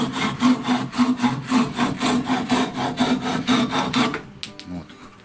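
A hand saw cuts through wood in a fast, steady rhythm of back-and-forth strokes, close and loud, then stops abruptly near the end.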